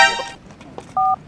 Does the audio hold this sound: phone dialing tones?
yes